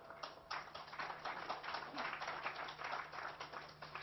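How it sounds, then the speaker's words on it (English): Steady applause from an audience at a valedictory programme for a peace and security dialogue, a dense even wash of clapping held at moderate level for several seconds. "A big round of applause for all our participants"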